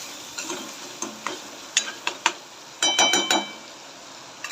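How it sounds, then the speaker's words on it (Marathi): Tomato and onion cooking in a pan with a little salt are stirred, giving scattered sharp scrapes and clinks of a spoon against the pan over a faint quiet sizzle. "याला व्यवस्थित फिरून घेते म्हणजे आपला टोमॅटो आणि कांदा लवकर शिजून येईल"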